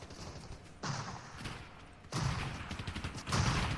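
Bursts of gunfire in the video game Fortnite arrive in three rough, rattling volleys of moderate loudness over a steady game background, with no voices.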